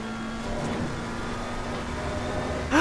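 GT race cars in Assetto Corsa Competizione roar in a steady, dense engine drone that holds level throughout, ending in a brief louder surge near the close.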